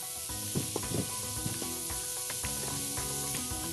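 Steak frying in a pan, a steady hissing sizzle with scattered crackles and pops, fairly faint and continuous, with a tonal hum running beneath it.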